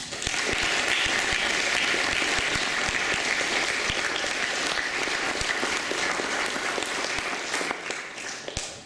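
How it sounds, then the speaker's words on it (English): Sustained, loud applause from an audience honouring a team at a 2021 academic awards ceremony, dense clapping holding steady before tapering off at the very end. "could we just have another round of applause for a brilliant team?"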